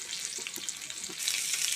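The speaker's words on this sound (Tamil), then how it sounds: "பச்சை மிளகா சேர்த்து வதக்கிக்கலாம்." Green chilies sauté in hot oil for curry leaf chutney, a soft close sizzle with light stirring taps that swells louder toward the end.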